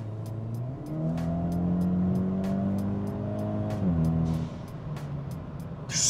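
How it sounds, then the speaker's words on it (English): A modified Hyundai Elantra N in normal mode drones loudly from inside the car, its exhaust note climbing through gears with brief dips at shifts and repeated ticking clicks throughout. "The exhaust is still a little bit loud. Actually, it's still pretty loud"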